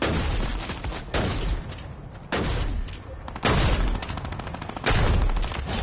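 Video game gunfire in bursts, loud repeated shots and rapid automatic fire in several clusters, close and dense with a muffled background.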